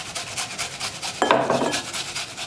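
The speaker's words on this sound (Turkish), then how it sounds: "Şimdi önce 1 adet kuru soğanın içine rendeliyorum." A dry onion grated on the finest side of a grater, a short close rasping scrape that starts suddenly partway through and fades under faint rhythmic background noise.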